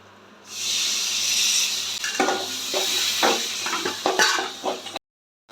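Loud sizzling from a frying pan of chopped tomatoes, with several scraping stirs and clinks of a utensil against the pan over a constant hiss.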